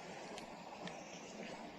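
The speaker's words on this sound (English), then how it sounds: "A little bit of rushing water there" Rushing water in a stream along Georgia's Bartram Trail, a steady broadband hiss and gurgle at moderate distance, continuous and unbroken, with no voices.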